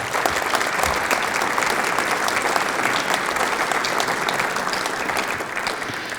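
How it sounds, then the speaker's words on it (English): Audience applause at a high school hall of fame banquet, a dense, steady wash of clapping that holds strong throughout and eases only slightly near the end. "So if you'll give them a round of applause."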